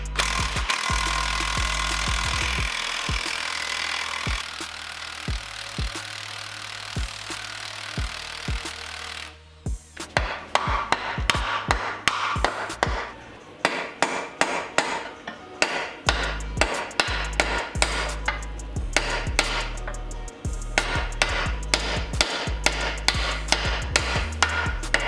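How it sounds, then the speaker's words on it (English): Repeated metal hammer blows driving a bolt back and forth out of the differential on a Ford Escort Cosworth rear beam, first muffled, then a long run of sharp, uneven strikes close by, with no talking. "So I got a bit sick of hammering the bolt backwards and forwards"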